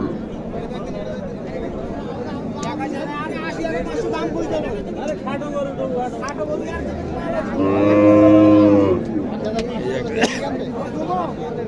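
A cow lows with a loud, drawn-out moo amid the steady chatter and murmur of a crowded village cattle market in Naogaon, with people talking throughout.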